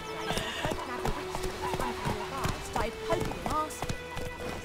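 Geralt's horse Roach in Witcher 3, hooves clip-clopping steadily while it whinnies and snorts, with a voice speaking over the game sounds.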